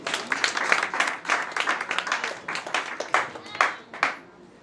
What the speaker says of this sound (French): Dana Desanges, que je vous demande d'applaudir très fort.